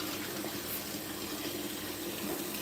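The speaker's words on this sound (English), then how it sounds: "We wash my hands real quick." Water runs from a household tap during hand washing, a steady, fairly quiet hiss that continues without a break throughout.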